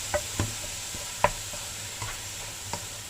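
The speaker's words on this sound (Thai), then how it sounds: "แกงของหอมเครื่องลาบ ผัดให้สุกนะคะ" Aromatic larb paste for northern Thai fish larb stir-fries in a pan, a soft continuous sizzle broken by several sharp scraping clanks of a utensil against the pan at irregular intervals, close and clear.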